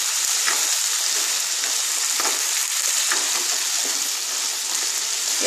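Potatoes frying in a pan with salted water added for aloo posto give a steady, close, loud sizzle that hisses without a break, with faint stirring scrapes underneath.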